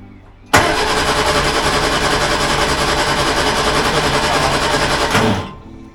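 An Austin A35 engine, freshly back together after a head gasket repair and carburettor rebuild, bursts into life abruptly and runs loud and steady for several seconds before cutting off.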